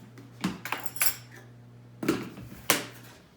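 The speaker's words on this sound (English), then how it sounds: "I'm gonna just use my handy dandy whisk to mix that in" A whisk clinks against a bowl in a few quick separate bursts while sugar is mixed into a dry cookie mixture for chocolate truffle cookies, with quiet pauses between the strokes.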